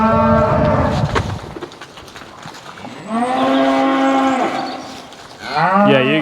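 Farm cattle being scanned by a vet moo in long, loud, drawn-out calls close by, one after another, with a third low bellow starting as another fades.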